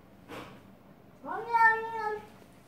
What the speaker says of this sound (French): Vous avez entendu le miaulement qu'elle a fait?